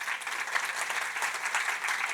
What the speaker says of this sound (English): Can I get a round of applause for Acraya?